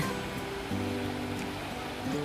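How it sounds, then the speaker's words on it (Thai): Water flowing through a town channel in Treviso, Italy, a steady broadband rush with faint low tonal hum, continuous and moderately close, no talking. "มุมนี้นะคะมุมน้ำไหลนะคะทุกคน"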